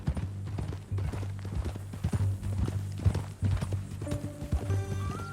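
Horse hooves clip-clopping in steady, close beats in Red Dead Redemption 2, with a soft ambient game score rising underneath toward the end.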